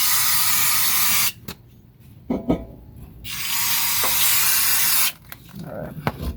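An aerosol spray can hisses in loud bursts onto the rear brakes of a 2013 Ford Mustang 3.7 V6. Two long sprays are split by short gaps that carry faint clinks and handling noises.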